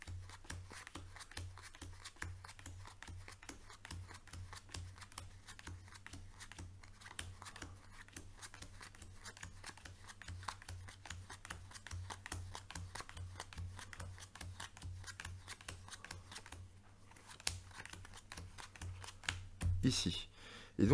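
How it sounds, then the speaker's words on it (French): Playing cards dealt one at a time into two piles on a table during a card trick, giving a steady run of soft, quick flicks and taps. A low hum sits underneath, and a brief louder rustle comes near the end. "on va distribuer toutes les cartes en 2 tas"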